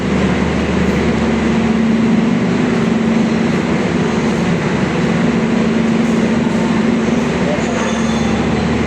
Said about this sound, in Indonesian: Di sebelah kita ini nggak tahu kereta apa